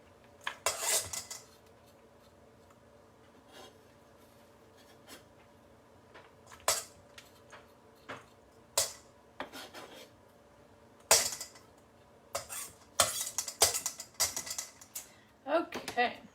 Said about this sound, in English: the shallots I won't mince, I'll just do a fairly fine chop